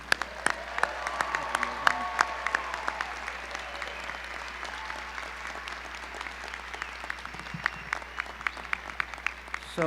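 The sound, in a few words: audience applause welcoming medical school graduates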